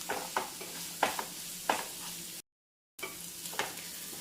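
Vegetables sautéing in a pan for broken wheat upma, a steady low sizzle with a few sharp stirring scrapes and clinks spaced about every second, briefly cut to silence midway.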